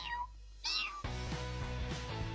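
A person's voice imitating a kitten, giving a few short, high, wavering meows up close, with no other talk.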